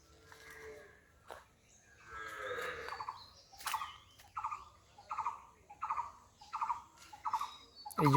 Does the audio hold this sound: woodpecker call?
yes